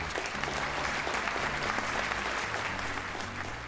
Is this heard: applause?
yes